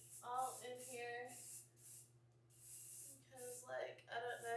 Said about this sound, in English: I'm going to go ahead and spray my heat protectant all in here.